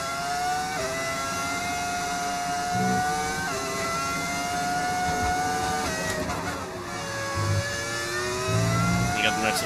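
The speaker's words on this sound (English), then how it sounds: "Yeah, the engine sound is a mod. It is a mod. It's meant to be the V10 engine," A modded V10 engine sound plays for a race car in the F1 25 video game, with a high, continuous whine that rises and falls through gear shifts under a commentator's talk.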